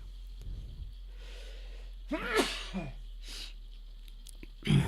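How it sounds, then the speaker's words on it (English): A single sharp sneeze bursts out midway through an otherwise quiet stretch, followed by a brief snort and some soft breathing sounds. "There goes the sneeze, as usual."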